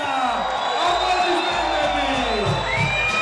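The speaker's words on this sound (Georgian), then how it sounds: "აპლოდისმენტები" Arena crowd cheering, whooping and applauding for a 73 kg world and European champion wrestler as he is introduced, a loud continuous roar with voices over it.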